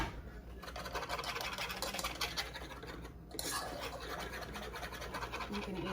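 A small whisk scrapes and stirs in a pot of shrimp and grits, producing continuous scratchy, rhythmic scraping close up, with a brief lull midway and no talking.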